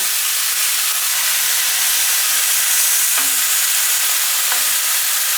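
Ground meat for chili cooks in a pan with a loud, continuous sizzling hiss, steam and frying noise filling the scene, a couple of brief scrapes near the end.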